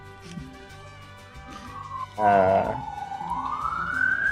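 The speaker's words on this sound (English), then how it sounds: "It's gonna be a challenge to see who has more police cars or fire engines going by them during this." A police car or fire engine siren wails past outdoors, a loud rising and falling tone that swells suddenly midway and keeps climbing, over a low background and some quiet talk.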